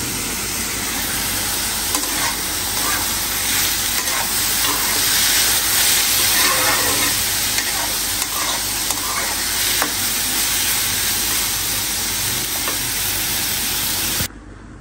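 Sliced onion and green chillies frying in a pan for a bitter gourd fry, stirred the whole time: a loud, continuous sizzle with scraping stir strokes that stops abruptly at the very end.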